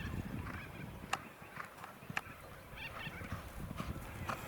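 Racehorses at a country racing stable move about with repeated hoof clip-clops, irregular sharp knocks over a busy outdoor background, with a faint whinny and farm fowl sounds nearby.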